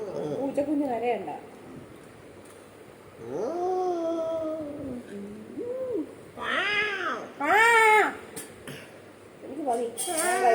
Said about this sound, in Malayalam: പൂച്ചക്കുഞ്ഞ് കരയണ്ട.